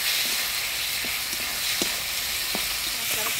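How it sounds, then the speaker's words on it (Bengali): Ground spice paste of coriander, cumin, ginger, chili, turmeric and salt sizzles steadily in a hot pan, with a few soft scrapes of a stirring spoon under the constant frying hiss. "মশলাটা দিয়ে নাড়াচাড়া করে নিলাম"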